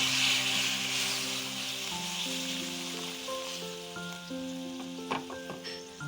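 Hot water poured into a hot pan of sugar and green chillies, for a fish curry with mango, bursts into a loud hiss that fades to a steady sizzle under soft background music.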